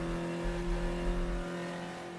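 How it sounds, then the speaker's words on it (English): Engine note of a touring race car in the Reiza Brazilian Touring Car Classics game, a steady low droning hum with a faint rising rev, continuous and close for about two seconds with no talk. "Oh my god, this engine is gutless."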